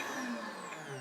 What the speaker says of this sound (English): Here's my cooked beetroot, which I'm going to put in here and just pulse 2 or 3 times.